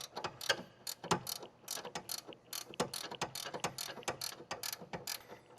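Ratchet working sway bar link nuts on a 2007-2016 Honda CR-V FWD front suspension gives rapid clicking pawl bursts in quick repeated strokes, close and crisp with no speech.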